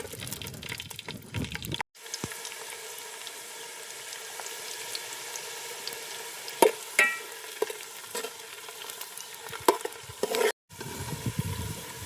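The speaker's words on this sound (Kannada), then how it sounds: "ತುಪ್ಪ ಚೆನ್ನಾಗಿ ಕಾದಾದ್ಮೇಲೆ ಅದಕ್ಕೆ ನಾವು ಗೋಡಂಬಿ ಆಕಾರದಲ್ಲಿ ಕಟ್ ಮಾಡಿಟ್ಟಿರ್ತಕ್ಕಂಥ ಬೆಳ್ಳುಳ್ಳಿ ಹಾಕೋಣ" Cashew-shaped cut garlic frying in hot Nandini pure ghee, a steady soft sizzle with occasional stirring scrapes and clinks of a utensil against the pan, brief pauses in the sound partway through.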